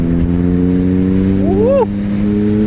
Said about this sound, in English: This exhaust sound is amazing